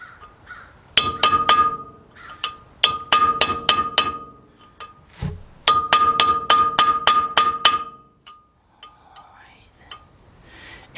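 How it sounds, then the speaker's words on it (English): On a 2006 Kia Sorento 4WD, a hammer drives a chisel against a front wheel stud, ringing out in two loud bursts of rapid, sharp metallic strikes separated by a pause, with a few softer taps and quiet background sounds. "how about if I can chisel away, make a little indentation in there first"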